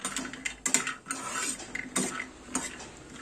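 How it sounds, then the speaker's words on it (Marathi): Cashews tipped into a dry pan for dry fruit laddoos, giving several close, clattering rattles and scrapes of nuts against metal, with brief louder clusters as they land and shift. "आता त्याच पॅनमध्ये आपण काजू टाकणार आहे."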